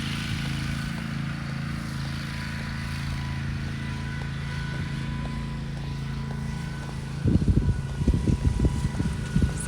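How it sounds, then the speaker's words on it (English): Tractor grooming and raking beach sand at a Disney resort area runs with a steady, moderately close engine drone, joined near the end by irregular louder bumps and clatter. "They have someone out here driving the tractor around, grooming the sand,"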